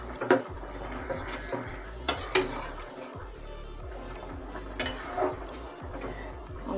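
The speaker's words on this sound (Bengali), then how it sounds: "একটু নেড়ে দিচ্ছি।" A spoon stirs pumpkin greens and vegetable curry in a metal cooking pot, giving a handful of sharp clanks and scrapes spaced irregularly over a low steady background.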